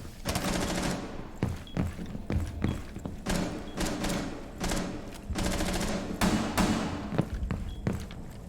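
Gunfire from a player in a video game: repeated bursts of loud, close automatic shots with short pauses between volleys and some thuds.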